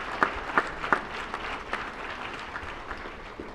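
Applause for elected officials at a 2015 police awards ceremony, a room of people clapping at moderate volume with a few sharp claps standing out early, then thinning out.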